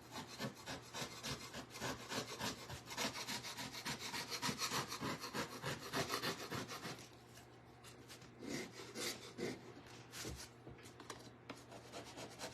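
Paint scraper scraping old wood on a vintage farmhouse piece, a steady run of rough rasping strokes, close and fairly loud, easing into shorter, sparser scrapes in the second half.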